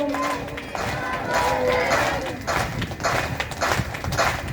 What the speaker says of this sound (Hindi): तालियों की आवाज तो ठीक है